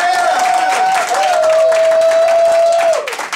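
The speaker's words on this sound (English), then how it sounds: "Give yourself a round of applause." An audience clapping and cheering at a Cincinnati gathering, dense and sustained, with a loud held whistle or tonal cry riding over the applause.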